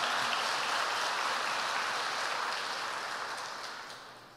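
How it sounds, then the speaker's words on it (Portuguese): A church congregation applauds at a Sunday service, a dense, steady patter of many hands clapping that fades out toward the end, with no one talking over it. "Gostaria que você desse um aplauso pela vida desses homens."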